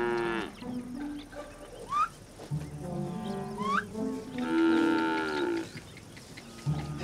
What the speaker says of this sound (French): C'est des sacrées vaches d'ailleurs.